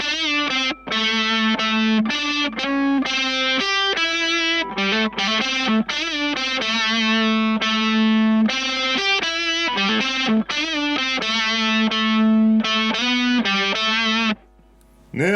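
A thick, fuzzy electric guitar through a Tone Cloud Tone Snifter fuzz pedal plays a melodic riff with sustained saturated notes, loud and up front, pausing briefly near the end.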